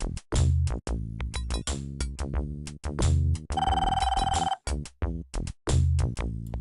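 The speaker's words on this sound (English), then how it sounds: "We need to wait for the phone to ring." Telephone ringing in the Police Quest 4 video game, a synthesized electronic ring over a rhythmic musical score, one sustained bright trill in the middle, loud and without speech.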